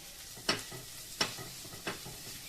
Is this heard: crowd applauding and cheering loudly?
no